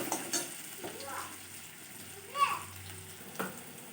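Onions fry in oil with a soft, steady sizzle, broken by a few brief scrapes and clinks of stirring. The sound is fairly quiet and close.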